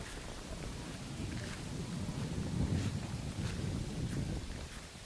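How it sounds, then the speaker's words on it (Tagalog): Strengthening wind at a lakeside camping resort in Cavinti, Laguna buffets the microphone as a steady low rumble and hiss, with no talk. "Medyo lumalakas yung hangin."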